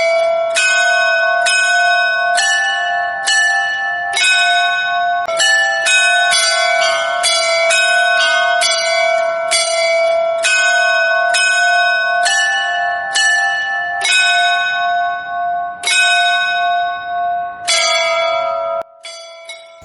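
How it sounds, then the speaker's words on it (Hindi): Brass temple bells offered by devotees ring in quick repeated strikes, each clang bright and resonant with long ringing tails overlapping, loud and close, with a few pauses near the end and no voices. "वही भक्त देवता को घंटा भेंट करते हैं।"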